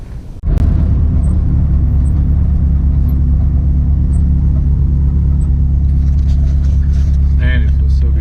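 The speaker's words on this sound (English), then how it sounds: "it feels so good to drive this car again." A Honda Civic EG hatchback with an H2B engine swap and worn suspension is driven, its engine a loud, steady, close rumble throughout after a brief quieter start.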